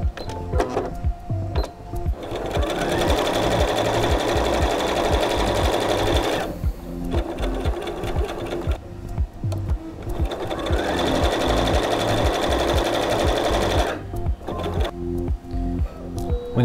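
A sewing machine stitches fabric for an envelope book cozy, loud rapid mechanical chatter in two long runs separated by a short pause, with slower starting and stopping bursts around them.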